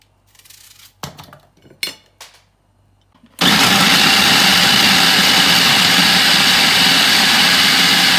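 Kitchen blender chopping onion for Moroccan chicken with olives, starting abruptly after a few handling knocks and then roaring loudly and steadily at full speed, with no talk.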